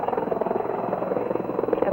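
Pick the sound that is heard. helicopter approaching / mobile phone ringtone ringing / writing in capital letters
helicopter approaching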